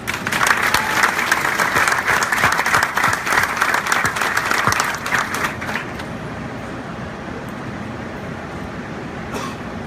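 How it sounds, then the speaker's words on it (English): Audience applause at a ballfield dedication in Vero Beach, Florida, dense clapping for about six seconds before thinning into a quieter outdoor murmur. "how about a round of applause for Keelan Harvick?"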